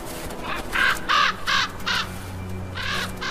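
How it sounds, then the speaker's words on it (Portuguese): Several crows caw over a carcass in a snowy Nordic winter landscape, a run of four harsh calls followed by another burst after a pause, moderately close with no talking. "Um banquete para os corvos."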